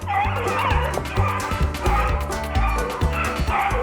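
Hunting dogs on a hot rabbit track: several dogs give rapid, overlapping yips, squeaks and barks in a continuous excited chorus, loud and close throughout.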